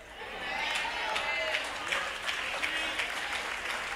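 Church congregation clapping during a morning worship service: steady, continuous applause that holds for several seconds, with a voice speaking over it.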